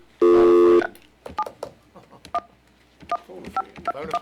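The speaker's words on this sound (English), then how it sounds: "Kim Angel, we're getting ready to dial you up" Touch-tone DTMF dialing on a telephone during a county commissioners' live-streamed meeting: one long loud tone, then a rapid run of short beeps spaced irregularly, close and clear, with faint room noise between.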